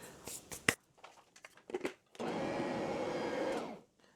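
Electric hand mixer whirring steadily through a batter of flour, cinnamon and salt for about a second and a half, close and loud, after a few clicks and knocks of setting up.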